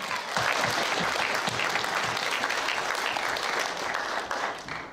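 A school assembly crowd claps loudly and continuously for a presenter, thick rapid applause from many children lasting the whole stretch and tapering slightly at the end.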